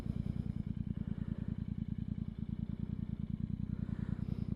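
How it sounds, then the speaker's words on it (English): Air-cooled Royal Enfield Super Meteor 650 twin idling or running steadily nearby, a loud, even low thump-thump pulse with mechanical clatter, alone without talk. "There's something about an air-cooled engine, just awesome."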